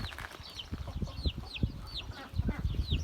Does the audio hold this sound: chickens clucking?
yes